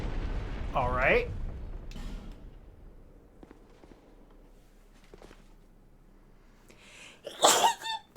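A loud sneeze bursts out close by during a Dark Souls 2 gaming session, followed by a quieter stretch of voices and another sharp nasal burst near the end.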